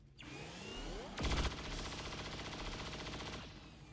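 Rapid automatic gunfire from a chain shot in XCOM 2, a dense run of shots with a sharp louder burst in the middle, close and loud with no talk over it.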